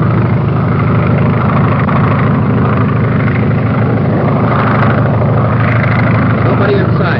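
Engine of a 1933 airplane in flight, a loud continuous droning roar that holds steady throughout, with faint voices underneath.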